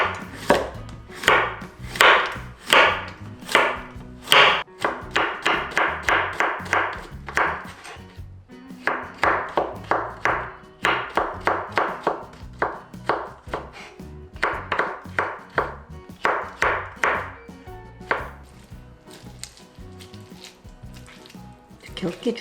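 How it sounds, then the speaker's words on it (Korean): A knife julienning a zucchini on a cutting board makes rapid runs of crisp chopping taps in rhythmic bursts, pausing briefly between runs, close and clear. "호박 1개 채 썰어 줄게요"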